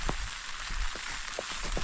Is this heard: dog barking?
no